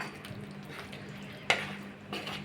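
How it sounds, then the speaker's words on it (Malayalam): Gooseberry pickle mixture is stirred in a pan over a faint simmering hiss, with soft scraping strokes and one sharp clink of a spoon against the pan. "ഇതെല്ലാം കൂടെ നന്നായിട്ടൊന്ന് മിക്സ് ചെയ്യാം"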